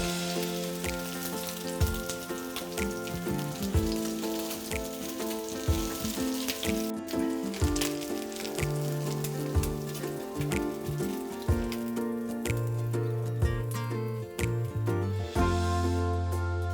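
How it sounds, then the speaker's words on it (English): Salmon burger patties sit frying in hot oil in a pan, a constant crackling sizzle with scattered pops, close by, running under prominent background music with no talking. "You want them to just sit and cook in that hot oil for"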